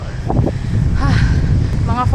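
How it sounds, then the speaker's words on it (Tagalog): Steady wind rumbling against the microphone on a countryside bike ride through the hills of Pangil, Laguna, a constant close buffeting with a rider speaking over it. "Mahangin lang."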